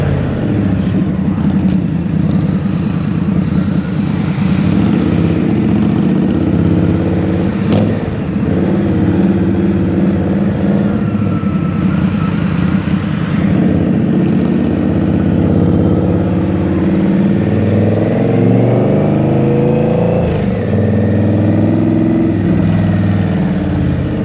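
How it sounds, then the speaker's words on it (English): A V-twin cruiser motorcycle engine, loud and close, revving up and down in long swells over a steady throbbing idle, with no talk. "Something about when you rev out this bike, maybe it's a V-twin thing, you rev it out"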